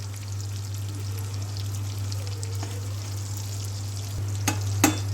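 Mutton frying in a little oil over a lowered flame, a quiet, even sizzle under a constant low hum, ending with a couple of sharp clinks of a utensil.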